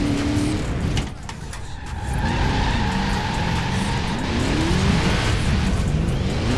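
A BMW X6 M in Forza Horizon 4 revs hard while drifting, its engine roar mixed with sustained tire squeal and skidding, loud and continuous with a brief dip in the middle.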